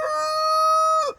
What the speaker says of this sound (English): He is the most talkative rooster I have ever had to deal with